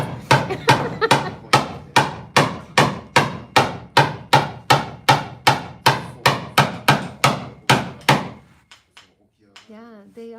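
Chisels and hand tools striking wood while building a traditional Japanese wooden cormorant fishing boat, about twenty sharp regular knocks at a steady pace, loud and close, then stopping into near silence with a faint tonal sound at the end.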